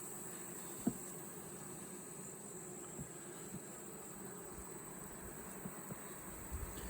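Bees hum steadily inside an open beehive with wonky comb, a faint continuous drone with a few soft knocks and taps near the keeper.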